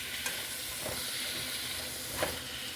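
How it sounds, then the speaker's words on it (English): Small bay scallops hit a hot pan with a steady, faint frying sizzle and soft hiss, broken by a couple of light stirring or placement sounds. "So we have some scallops here. They're just small bay scallops. I'm going to add those in."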